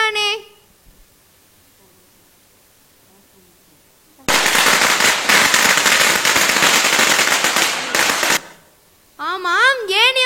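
A firecracker string bursts on a stage at a Diwali celebration, a dense, loud crackling volley lasting about four seconds, with voices heard before it and right after it.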